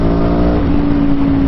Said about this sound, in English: So you guys can hear effectively the exhaust